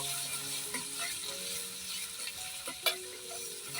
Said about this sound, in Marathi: तूप तापलेलं आहे त्याच्यामध्ये आता जिरं टाकून देते आणि जिऱ्यासोबतच हिरवी मिरची पेस्ट